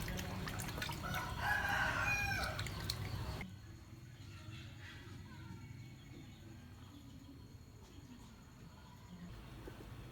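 Hens that have begun laying and brooding cluck and call noisily in a coop, with a rooster-like crow among them for the first few seconds, after which the sound drops to a quieter background.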